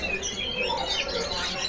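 A wild-caught young hill myna calls in a busy bird shop, with scattered chirps and whistles from other caged birds blending into a steady background.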